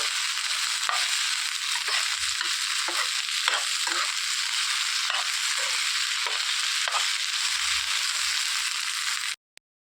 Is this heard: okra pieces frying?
yes